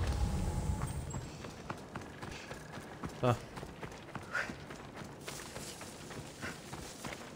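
Horse hooves clip-clop in Assassin's Creed Odyssey, a few soft, uneven hoof thuds at moderate distance beneath someone talking and faint game ambience.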